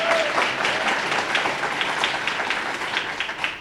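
An audience at a retirement ceremony breaks into sustained applause, a dense wash of many hands clapping at even volume throughout.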